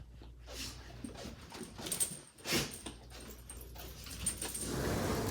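Dogs are let outside: keys jingle and a door rattles, a dog whimpers close by, then movement shuffles and outdoor noise rises toward the end.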